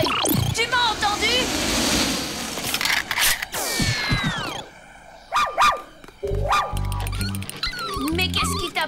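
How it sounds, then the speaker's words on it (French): An animated cartoon dog called a nice dog yips and barks amid busy cartoon sound effects and music, with spoken dialogue around it. "Ça, c'est un gentil chien."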